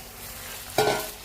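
Cut pointed gourds dropped into hot spiced oil with cashews, giving one sudden sizzling burst after a quiet stretch, then a fading hiss close by.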